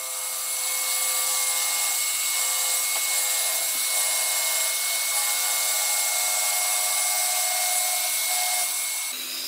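A track saw makes a cross cut through wood for a rolling band saw cart, a loud sustained whine that holds steady through the cut and then drops off near the end, with no voices.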